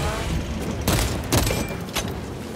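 Gunfire in the video game Space Marine 2, played on PC, with shots aimed at Xenos heads: three sharp, loud blasts at uneven intervals over a steady bed of game noise.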